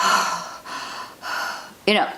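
A person acts out a sharp, fearful gasping breath, several quick breathy intakes ending in a brief voiced catch, close and fairly quiet.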